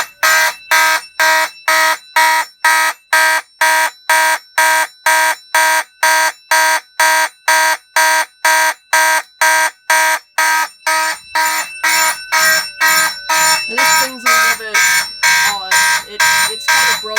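Fire alarm panel and its devices sounding in march time, giving a loud, regular pulsing horn about twice a second that continues throughout, with someone talking over it in the second half.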